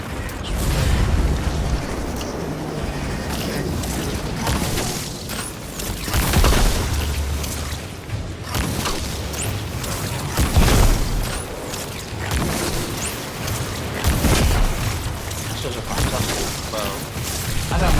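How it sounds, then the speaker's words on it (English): Enemies exploding in the video game Destiny 2, a run of booming blasts and crackling bursts over continuous game noise, with voices talking throughout. "Attack a few of them and they all decided to explode."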